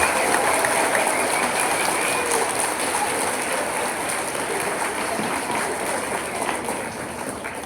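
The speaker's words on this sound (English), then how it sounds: "Let's give them a big round of applause." A school honors day audience gives a big round of applause for sixth-grade students, a dense, even wash of many hands clapping that sounds roomy and sustained, tapering off slightly toward the end.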